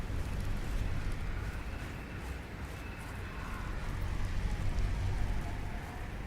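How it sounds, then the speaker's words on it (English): Steady, dense blizzard wind and snow noise from the survival game Subnautica: Below Zero, an unbroken roar-like hiss that holds at an even loudness throughout without any talking. "this game with this blizzard sound is honestly making me want to fall asleep"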